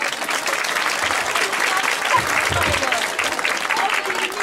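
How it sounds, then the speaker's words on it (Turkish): An audience at a youth-branch theatre talent show claps for a performer, with dense, steady applause and a faint crowd murmur running the whole time at a fairly loud, even level. "Kardeşimize bir alkış."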